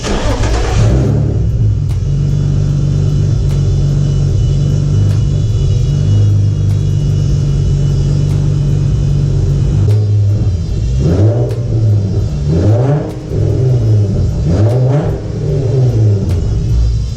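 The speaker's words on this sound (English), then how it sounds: "You hear that whining noise. That's just the external oil pump." Turbocharged Nissan G35 with a custom rear-mounted turbo idling steadily, a droning engine hum with a constant whine from its external oil pump, followed by a few short revs near the end.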